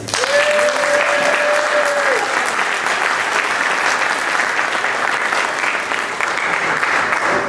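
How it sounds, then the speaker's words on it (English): Steady, sustained applause from a crowd at a gala dinner, clapping evenly and loudly throughout without letting up. "a special round of applause for our hard-working administrative assistant, Phyllis"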